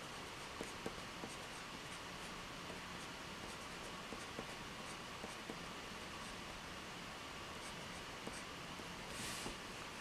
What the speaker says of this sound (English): we'll just write it in with a pen